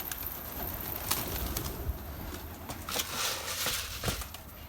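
Pigeons near a coop flutter and coo in short bursts, with soft wingbeats and scattered faint calls over a steady outdoor background; no one speaks during these moments.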